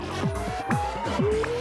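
In the video game Paper Mario Color Splash, a car drives with tire squeal, an engine note sweeping up and down repeatedly alongside whining squeals, brief and fairly loud.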